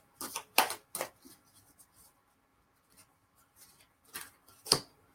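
A deck of oracle cards is shuffled up close in a quiet room, producing brisk papery riffles and rubbing bursts in uneven clusters separated by short pauses.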